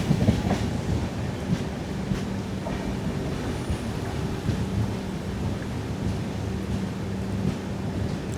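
The Venad Express pulling into Irinjalakuda (Kallettumkara) station in Kerala, heard as a continuous low rumble with rattling carriage noise throughout, steady and fairly loud, without talk.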